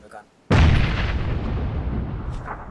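A single loud grenade explosion in PUBG bursts suddenly and rumbles away over a couple of seconds, with faint voices before it.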